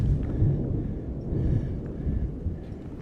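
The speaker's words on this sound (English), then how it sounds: "There's a thunderstorm overhead." Deep, low rumbling of a thunderstorm overhead on Everest rolls continuously with a few muffled booms, like distant thunder under steady wind noise.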